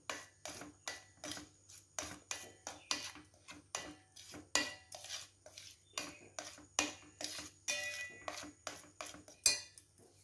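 A whole grated coconut is stirred in a pot for sweet avalakki: a steady rhythm of scraping clinks, roughly two strokes a second, close and clear with no talking.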